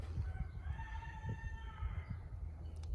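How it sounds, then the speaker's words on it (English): A rooster crows once at a distance in woods, faint harmonic notes drawn out over a low rumbling outdoor background. "Woods roosters. Chickens."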